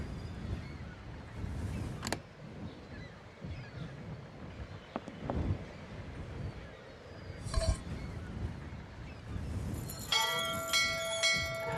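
A bell rings in the video game Syberia, heard as a clear tonal chime near the end. Faint ambient game sound and a few soft clicks come before it, with no speech.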